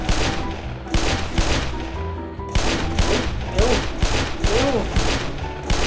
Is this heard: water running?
no